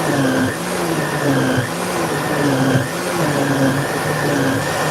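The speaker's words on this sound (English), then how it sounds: "Fit right in the blender." A kitchen blender whirs while blending salsa ingredients, a steady, close motor whine whose pitch dips and rises a few times as the load shifts, with no talking.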